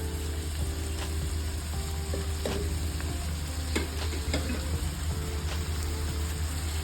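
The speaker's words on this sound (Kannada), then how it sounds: "ಇದನ್ನ ಕೂಡ 2 ನಿಮಿಷ ಫ್ರೈ ಮಾಡೋಣ." Egg burji with drumstick leaves fries in a pan, giving a steady soft sizzle with scattered stirring scrapes and clicks, fairly quiet and close, no voices.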